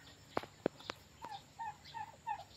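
Near and clear, a female domestic turkey at a rural farm in Gemencheh gives a series of calls: two or three sharp clucks followed by repeated short yelping notes in an uneven rhythm, with no talk.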